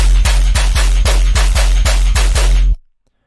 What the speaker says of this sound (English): Then I got my sub bass again, which is really hard hitting.